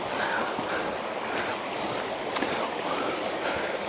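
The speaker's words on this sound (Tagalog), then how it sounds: "Parang palakas na palakas yung tubig" A rocky forest stream near Enchanted Desay Falls in Roxas, Palawan rushes steadily with a broad, continuous hiss of flowing water. It is fairly faint, with no talk.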